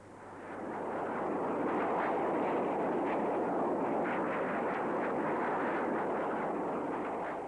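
Swing-wing Tornado strike aircraft jet engines build into a sustained, broad roar at a 1984 air show, rising over the first second and holding loud and steady, with no talk.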